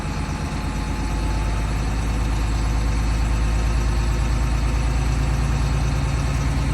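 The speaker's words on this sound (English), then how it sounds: "I'm just going to accelerate slightly to assist my air pressure in building up" A Class B passenger vehicle engine runs steadily at raised idle to build air brake pressure, a loud, continuous low rumble with even pulsing throughout and no talking.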